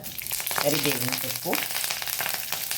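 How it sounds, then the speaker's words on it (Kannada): Mustard seeds crackling in a spoon or two of hot oil for a quick sambar, an uneven sizzle with sharp popping bursts, up close, with a faint voice-like sound mixed in. "ಕರಿಬೇವಿನ ಸೊಪ್ಪಾದ ಮೇಲೆ ಸಾಸಿವೆ ಚಟ್ಪಟ ಆಯಿತು"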